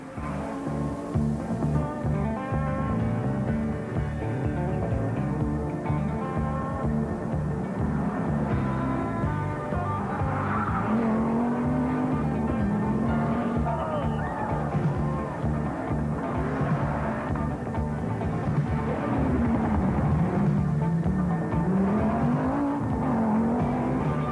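An Audi Quattro rally car races on a British rally stage, its engine roaring loud and steady with shifting pitch throughout, with no clear break.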